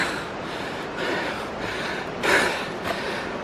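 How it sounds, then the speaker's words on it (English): Heavy, labored breathing from someone hiking up to a waterfall in northern Bali, heard as several close, noisy breaths and snorts over steady outdoor background noise. "here's some heavy breathing here."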